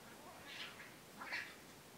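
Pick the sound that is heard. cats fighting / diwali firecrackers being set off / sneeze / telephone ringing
cats fighting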